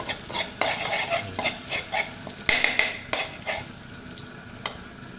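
Clams being stir-fried in a pan, with loud sizzling and repeated scraping, clattering strokes of a utensil against the metal at an uneven rhythm, close up and without speech.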